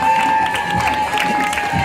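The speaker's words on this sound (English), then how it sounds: "Let's give Aiden another round of applause." Audience applauding at a school word parade, a steady wash of clapping from a crowd with a faint voice underneath, sustained through the whole short stretch.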